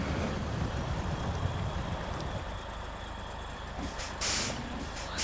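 A truck drives in the SnowRunner video game with a steady, low engine rumble throughout, and a sharp air-like hiss bursts in near the end. No one speaks.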